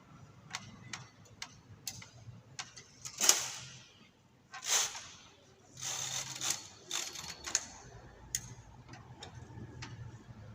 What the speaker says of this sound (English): I'm just going to continue with it and knit 1 row